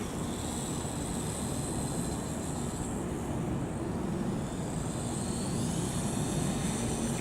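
Tamiya 1/8 Dancing Rider RC motorcycle on the T3-01 chassis runs at full throttle, a steady, fairly quiet high whine with a soft rushing undertone, swelling slightly near the end, with no voices.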